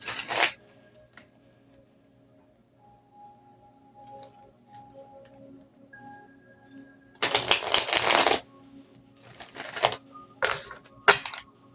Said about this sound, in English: So I'm going to shuffle these a couple of times